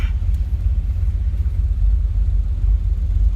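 A 1978 Pontiac Firebird on a post-restoration shakedown drive, its engine a deep steady rumble, close and continuous, with no talking.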